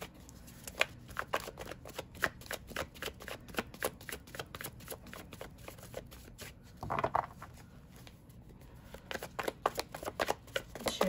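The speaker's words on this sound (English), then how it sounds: "These cards are taking a moment to come out, right?" A tarot deck being shuffled for a reading, close and alone with no talk: a quick rhythmic run of crisp card riffles and flicks, broken by a brief louder rustle midway before the shuffling resumes.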